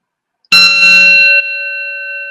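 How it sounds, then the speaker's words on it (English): A single meditation gong is struck once, loud and close, then rings with a bright, shimmering tone that settles into a long sustained hum. No one speaks. "become one with the sound of the gong"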